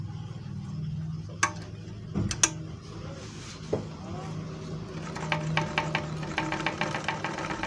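Overlock machine sewing a test stitch after a looper timing adjustment, a few mechanical clicks and clunks that build into a rapid close rhythmic ticking run, with talk in the background.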